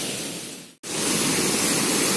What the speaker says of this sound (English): The rustling water has a very nice sound.